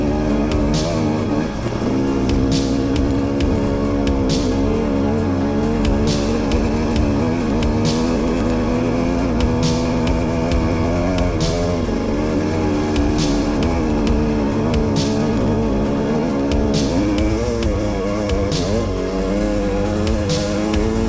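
Dirt bike engines revving hard on a mountain summit trail in Colorado, loud and close with continuous rising and falling engine tones and rhythmic pulses from gear changes, no talk.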